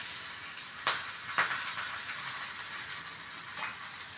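Ajwain (carom) leaves hitting hot oil in a pan give a steady soft sizzle, with two brief crackling bursts near the start and a faint flare later.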